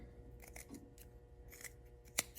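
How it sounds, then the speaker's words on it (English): Scissors snip through a sewn fabric corner and seam allowance of a tie top, a few quiet, uneven cuts with one sharper closing snip near the end. "trim the seam, trim the corner"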